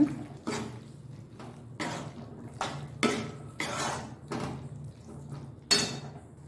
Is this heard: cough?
no